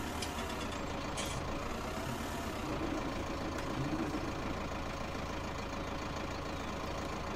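A Zetor Proxima tractor engine idling in Farming Simulator 19, a steady low diesel rumble with a faint knocking texture, close and even throughout with no talking.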